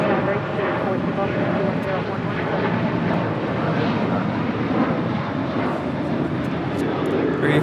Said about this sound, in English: United 1657, RNAV Doctor, runway 25 right, cleared for takeoff